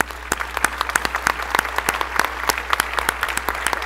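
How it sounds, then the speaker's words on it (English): A round of applause for the speakers at the close of a sustainability talk: a small audience claps with scattered, individually distinct hand claps, steady and moderately near, with no talking over it. "I want to give a big round of applause to our speakers."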